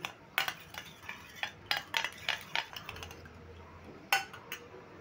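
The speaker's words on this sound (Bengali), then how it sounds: "এবার আমি 3টে সসই একভাবে মিশিয়ে নিচ্ছি" A spoon clinks and scrapes against a bowl as soy sauce and two other sauces are stirred together for a chili paneer, with light, irregular taps that come close and clear and have no talk over them.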